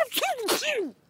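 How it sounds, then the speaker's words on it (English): A cartoon turkey sneezes in a Garfield cartoon: a close, voiced burst with a sharp explosive snap in the middle, about a second long. "What are you sneezing about?"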